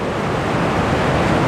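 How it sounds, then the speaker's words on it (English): Nabuyole waterfall in Webuye, Kenya roars as a loud, dense, unbroken wash of crashing water filling every register, close and steady, with no voices. "to this majestic waterfall, and I continue to get closer and closer to it"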